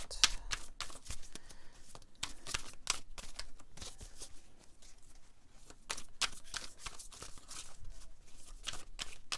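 Tarot cards shuffled by hand in quick, crisp bursts of riffling and flicking, close and fairly quiet, with short pauses between runs and no talk.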